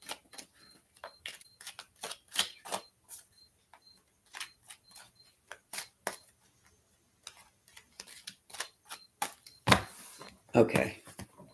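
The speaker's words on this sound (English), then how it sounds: "You want me to shuffle like this too?" Tarot cards being shuffled by hand, irregular crisp ticking flicks in quick clusters with short pauses, close and fairly quiet, ending in a louder riffle.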